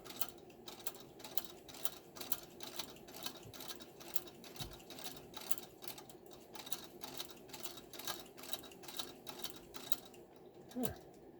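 A Singer 27 sewing machine stitches at an even, rapid rhythm, each needle stroke a distinct mechanical click over a soft motor hum, fairly faint and close, with no talk.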